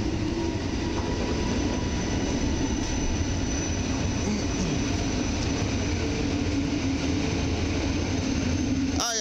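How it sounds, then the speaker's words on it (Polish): A Koleje Mazowieckie EN57 electric multiple unit train rumbles past at close range onto sidings, a steady, loud broadband roar with low rolling clatter throughout, ending in a brief squeal. "A tymczasem mój pociąg zjeżdża na tory postojowo-odstawcze."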